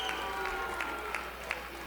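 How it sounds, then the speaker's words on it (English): Boxing crowd in a Los Angeles arena after the Jones–Reyes fight, cheering and clapping in a sustained murmuring roar with a few sharper bursts of claps, heard under ongoing commentary. "Crowd's loving it"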